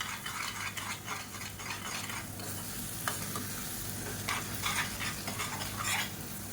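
Egg scrambling in a hot pan, with a steady sizzle and frequent scraping stirs from a spatula, close and fairly loud throughout with no talking.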